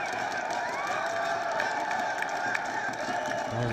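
A Nepal crowd at a World Cricket League 2 match against UAE roars and cheers after a wicket, a loud, dense wash of shouting and clapping that holds steady throughout.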